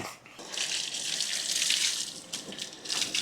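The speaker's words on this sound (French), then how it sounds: "Bien rincer abondamment les chaussures, le pantalon, le calbut et tout ce qui s'ensuit." Shoes, trousers and other riding gear from a jet ski outing get rinsed under running water, a close hissing spray that briefly falters and surges a couple of times.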